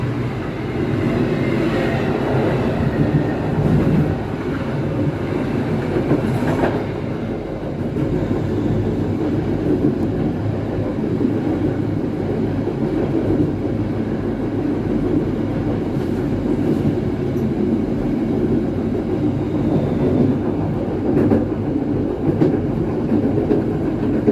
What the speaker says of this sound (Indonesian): kereta api Pandalungan meninggalkan stasiun Cikarang